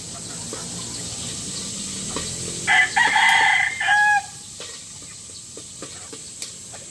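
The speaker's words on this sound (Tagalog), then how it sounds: "Kita man yung manok." A rooster crows once in a single mid-length call outdoors, loud and alone against a steady background hiss, with faint clicks and ticks scattered before and after.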